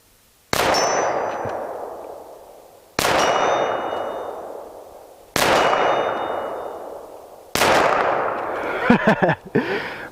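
Four evenly spaced Glock 17 9mm pistol shots, each a sharp crack followed by a long ringing steel-target clang that fades out; voices murmur faintly after the last shot.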